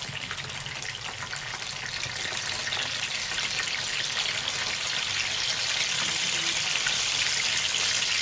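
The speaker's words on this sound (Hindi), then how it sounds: "नाज़रीन 3 मिनट हो गए हमें कबाब फ्राई करते हुए एक साइड से" Chapli kebabs fry in a pan with a dense, constant crackling sizzle, close and loud and steady throughout, with no voices.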